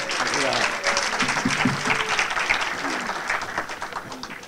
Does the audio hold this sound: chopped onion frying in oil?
no